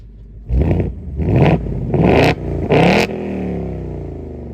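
A Ford Mustang Dark Horse V8 with a manual gearbox, exhaust set to track mode, blips loudly four times in a row from close by, each rev rising then cutting off, before settling into a rumbling idle.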